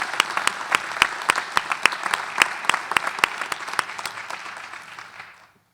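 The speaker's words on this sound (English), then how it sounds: "can we please give her a round of applause?" Town hall audience applause, a moderate crowd of hands clapping with sharp distinct claps standing out, building then thinning and fading out near the end.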